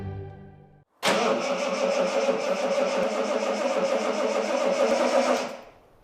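A Triumph 2000 MK1 engine cranks on its starter without firing, a steady churning drone lasting several seconds after a short lower sound at the start, then cutting off.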